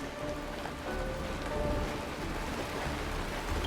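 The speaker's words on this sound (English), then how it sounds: "Mommy, the rain. It's raining." Steady rain falls in the Honkai: Star Rail video game, a dense, even hiss heard on its own at a soft level.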